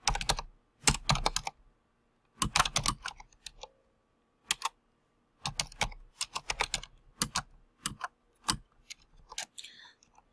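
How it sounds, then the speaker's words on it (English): Someone types on a computer keyboard close up, with quick bursts of clicking keystrokes separated by short pauses, some runs dense and rapid, others just a few isolated taps. "So let me type some stuff up."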